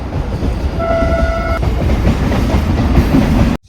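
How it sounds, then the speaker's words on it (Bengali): Trains rumble past at Bauria in a loud, steady roar, with a brief horn blast early on and clattering wheels, before the sound cuts off abruptly. "এতেই দেখি দুটো ট্রেন যাচ্ছে"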